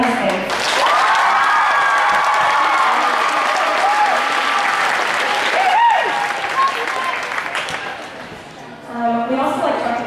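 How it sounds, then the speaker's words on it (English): A school band concert audience gives the Lynn County Mustangs band a big, sustained round of applause, with loud clapping and scattered cheers that ease and then swell again near the end. "have a big round of applause for your Lynn County Mustangs"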